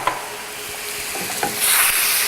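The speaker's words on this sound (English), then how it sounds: "Just mix it all around." Onions, garlic, olive oil and chili powder sizzle in a pan while a utensil scrapes and stirs them. Close, steady frying hiss with brief scraping strokes, no talk.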